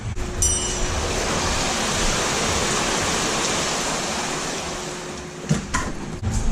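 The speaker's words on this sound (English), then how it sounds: "it's pouring right down on top of it" Heavy rain pours down onto a car in an unbroken, even rushing hiss, with a couple of faint knocks near the end.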